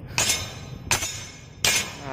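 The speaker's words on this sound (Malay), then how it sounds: "kita ketatkan guna pakai tukul, ketuk saja" Three sharp metallic taps of a hammer ring out at a steady pace, close and clear, tightening a loose brake caliper pin on a Perodua Viva car.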